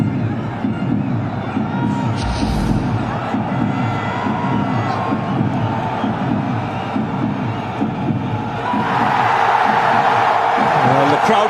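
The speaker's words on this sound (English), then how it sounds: "Well, the crowd come to life." Cricket crowd at the India vs Sri Lanka World Cup final, a broad sustained roar of cheering that swells louder near the end, with a commentator speaking over it.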